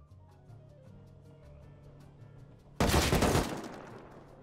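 A sudden burst of rapid AK rifle fire in the video game Rust erupts after a quiet stretch, loud and dense, then tails off into a fading rattle.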